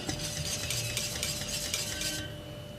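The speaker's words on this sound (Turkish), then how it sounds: "Devamlı karıştıralım. Gördüğünüz gibi kaynamaya da başladı." A spoon stirs béchamel sauce as it comes to a boil in a pot, giving a continuous close scraping and swishing with a soft bubbling bed beneath, no voices.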